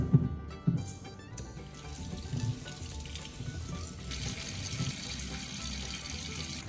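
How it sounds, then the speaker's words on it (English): Water runs into a kitchen sink as fresh ripe tomatoes are washed, a steady, moderate splashing stream with a few knocks near the start and no talking. "Then wash them by placing the tomatoes in the sink."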